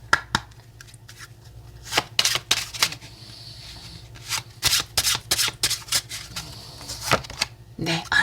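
Oracle cards being shuffled for a tarot reading, with quick riffling bursts and soft snapping flicks coming in irregular clusters, close and crisp, with a voice speaking between them.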